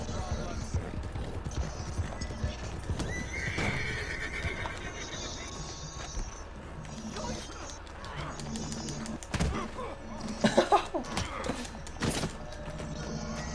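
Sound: horses galloping in Red Dead Redemption 2 (video game)

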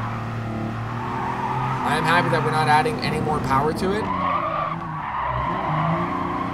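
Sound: car tires skidding while heating brakes in GT Sport video game

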